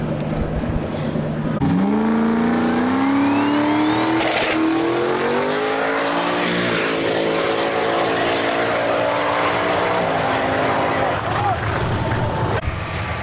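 A no-prep drag racing car makes a full pass at the OSW event, the engine roaring loud and close as it launches and pulls hard, pitch climbing steadily through sustained acceleration under crowd noise.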